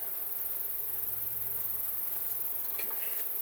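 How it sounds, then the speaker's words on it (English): A close, continuous hum of honey bees fills a beehive, steady and even throughout, with a few faint crackles near the end and no voices. "So there's bees, bees, bees, bees, bees, and bees."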